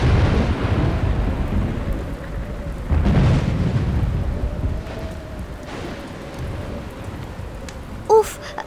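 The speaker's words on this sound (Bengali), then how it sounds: "উফ, কি জোরে ঝড় উঠেছে, সবকিছু মনে হচ্ছে এলোমেলো করে দেবে।" A thunderstorm effect for an animated folk tale gives steady heavy rain with deep rolling thunder swells, and a brief sharp crack near the end.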